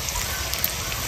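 Chopped onion hits hot oil for a mutton curry, giving a brief, steady hiss and crackle of sizzling across about one second.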